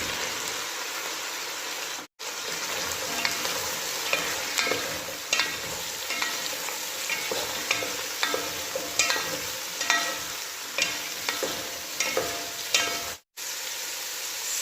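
Vegetables stir-frying in a pan for rice stick pancit, a steady bright sizzle with scraping stir strokes throughout, briefly cut out twice.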